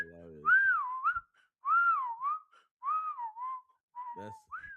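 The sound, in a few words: voice imitating a referee's whistle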